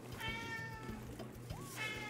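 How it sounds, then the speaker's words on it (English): A house cat meows twice, clearly and at moderate distance, over a background of talk and game music. "He's not going to meow now."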